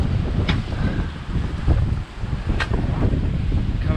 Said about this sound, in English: waves are big today